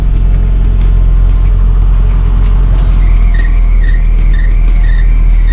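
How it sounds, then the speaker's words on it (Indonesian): A car air conditioner's belt squeals as the unit switches on, a wavering high-pitched screech rising and dipping over a loud, constant engine rumble, with no talk. "akan terdengar suara belt menangis mendicit-dicit"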